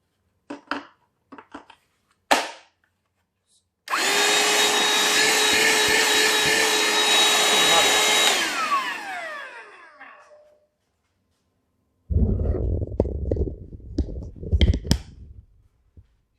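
A Ryobi P7131 One+ 18V cordless vacuum running on a 3Ah HP battery starts with a loud, steady whine, holds for about four seconds, then spins down. A few clicks come before it, and rattling, clattering bursts follow.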